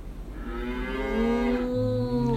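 A long, drawn-out cow moo rises and slides in pitch, loud and close, imitated by children at a Sunday school session.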